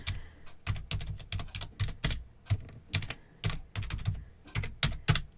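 Rapid typing on a computer keyboard while entering a folder name in Lightroom Classic, with sharp, close key clicks in quick irregular bursts and no talking.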